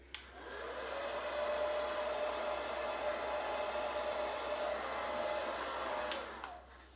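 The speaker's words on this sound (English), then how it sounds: "then I just diffuse slightly at the root because it gets done faster" Hair dryer with a diffuser drying curly hair at the roots, starting up, blowing as a steady close roar for several seconds, then switching off.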